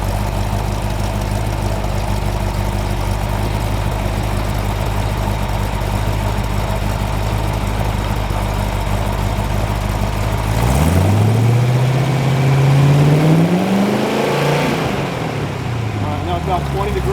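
A Chrysler 318 stroker V8 idles loud and close with a steady, lumpy drone, then gets a single rev that climbs sharply in pitch, holds briefly and falls back to idle.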